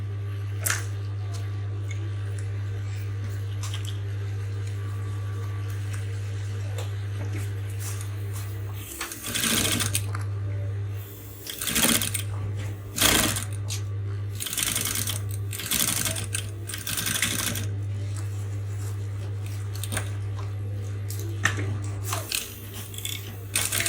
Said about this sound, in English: So I'm going to go ahead and top stitch on it by opening up the seam allowance here.